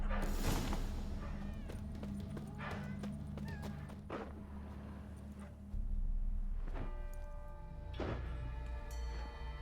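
A cat meows a few times in the video game The Witcher 3, amid ambient game sounds, soft tonal music and occasional hoof-like clops.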